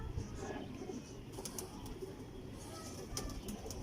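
A purebred Teddy pigeon coos softly amid a noisy loft, low rumbling calls under background bustle and a few sharp clicks.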